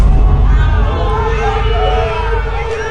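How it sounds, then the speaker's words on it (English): Large live audience crowd making a sustained loud roar of booing and hubbub, steady and close throughout with no clear individual voices standing out. "Hey, why are you booing? Why are you booing?"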